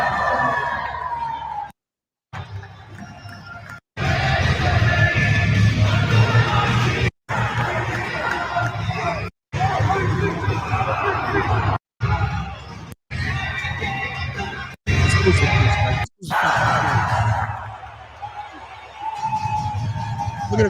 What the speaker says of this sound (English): Look at the crowd. Look at the people.